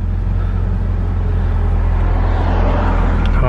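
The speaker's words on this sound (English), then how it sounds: "it sounds just like a brand new Civic" A Honda Civic Si engine idling cold and steady, a loud continuous low rumble with strong low-frequency throb, heard close up with no one talking.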